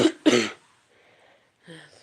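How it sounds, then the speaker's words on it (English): Two sharp, close coughs in quick succession, followed by a pause and a softer throat-clearing sound. "if I'm coughing a whole bunch."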